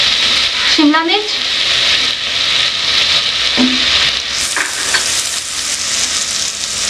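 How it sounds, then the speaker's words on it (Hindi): Capsicum and other vegetables sautéing in a pan for a Spanish omelette, a steady broadband sizzle with stirring scrapes throughout, close and fairly loud, with a brief voice-like sound over it. "अब मैं इसमें बाकी सारी वेजिटेबल्स ऐड करूँगी जिन्हें हमने पकाना नहीं है, सिर्फ चंद सेकंड सौते करना है।"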